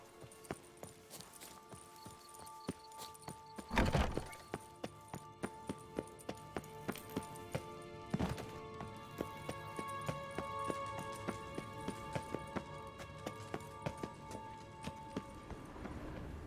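Roach, a horse in the game The Witcher 3: Wild Hunt, gallops with a steady rhythmic clip-clop of hooves, fairly quiet, broken by a couple of heavier thuds along the way.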